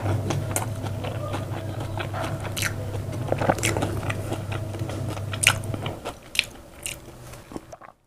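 Someone bites into and chews a spicy BBQ Zinger fried chicken burger up close, with crisp crunches and moist chewing sounds over a low steady hum that fades near the end.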